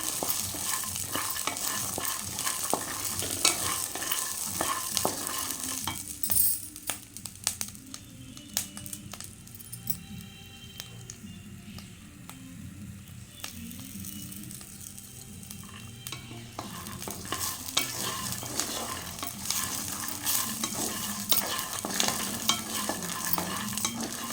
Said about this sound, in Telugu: సిమ్లో పెట్టి వేపుతాము మంచిగా వేగడం కోసం